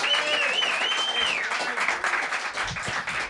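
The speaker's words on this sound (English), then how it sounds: "clap your hands, make some noise for Brian Beaudoin!" Lively audience clapping and cheering for a comedian taking the stage at a comedy night, with whoops and shouted voices over the applause and a bright whistle-like tone early on.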